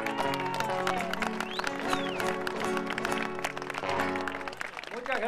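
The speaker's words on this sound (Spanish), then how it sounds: "Está pidiendo Güenchul que lo aplaudan a Huizcal." An audience applauds at an outdoor folk gathering under a clear sky, steady clapping with a musical instrument playing underneath.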